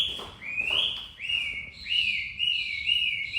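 An Oriental magpie-robin of the tapak jalak type sings a clear, loud, whistled song of sliding, repeated phrases, close by with no talk.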